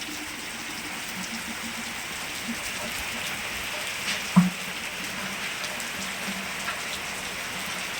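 Continuous moderate rainfall patters steadily, with one short soft thump partway through and no voices.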